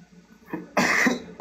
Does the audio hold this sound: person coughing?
yes